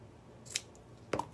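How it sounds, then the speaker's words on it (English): Scissors cut yarn during a crochet and sewing project, giving two quick, quiet snips about half a second apart in an otherwise still room. "cut that off again"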